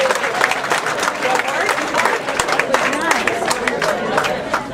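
Participants in a fat-burning exercise workshop applaud themselves with lively, close clapping, cheers and chatter overlapping in a room.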